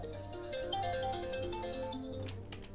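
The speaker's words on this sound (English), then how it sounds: "I'm getting a phone call." Phone ringtone from an incoming call plays during a Slay the Spire game stream, a short repeating electronic melody of pulsing tones that runs steadily for a few seconds with no talk over it.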